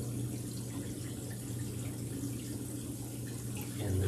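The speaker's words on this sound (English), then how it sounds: "when the auto top off turns on, you'll see the water start to kick in here and it'll start to fill the chamber" Water from an Avast Marine aquarium auto top-off runs into a kalkwasser stirrer chamber, making a steady, close rushing and trickling fill that holds even throughout and swells slightly at the end, with no talking.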